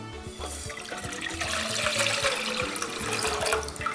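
Water runs steadily from a tap into a cooking pot at the start of a spicy okra and beef stew, a continuous splashing rush that stays close and even with a low rhythmic thump underneath and no talking.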